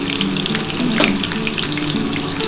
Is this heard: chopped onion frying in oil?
yes